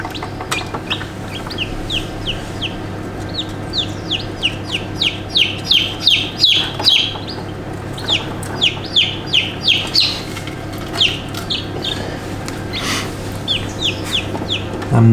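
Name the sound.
Wyandotte bantam chick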